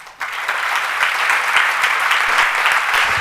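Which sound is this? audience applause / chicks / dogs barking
audience applause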